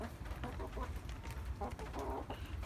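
A Barred Rock hen clucks softly and repeatedly close by, low murmuring clucks with a couple of slightly louder calls, no voices around.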